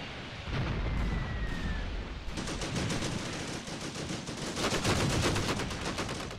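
Gunfire from the tank combat video game Tank Warfare Tunisia 1943 crackles in dense overlapping bursts, with rapid repeated shots building louder over a rumbling battle background, and no one speaking.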